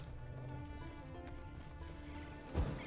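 Horse hooves clip-clop steadily through The Witcher 3 game scene, closing with a louder burst of snorting or a short whinny near the end.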